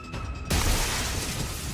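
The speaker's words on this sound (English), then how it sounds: "there was a crashing sound of glass breaking" Glass shatters in The Hundred Line video game, one sudden loud crash that breaks out of a quiet tone and then leaves a dense, lingering spray of debris noise.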